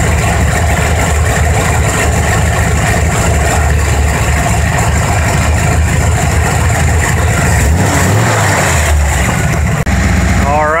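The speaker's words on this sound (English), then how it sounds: "we're going to lean this engine out or richen it up" A carbureted car engine idles steadily up close while its idle mixture screw is adjusted, a continuous low mechanical drone with a slight dip and rise in pitch near the end.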